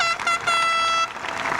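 A horn blasts at a high school graduation ceremony, a bright tonal honk with a short pause, then a second sustained blast, followed by a murmur of crowd noise.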